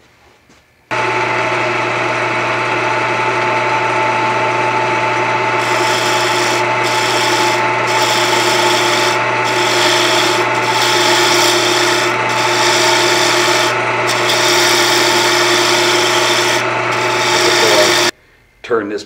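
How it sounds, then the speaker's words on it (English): Steady, loud, close abrasive rubbing from sanding a wooden plate during shaping, with a constant power-tool hum underneath. Brighter bursts of grinding come and go over the surface, and the sound cuts off abruptly near the end. "So now the next step is to start shaping the plate."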